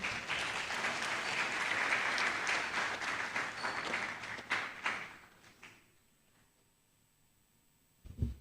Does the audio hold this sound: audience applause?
yes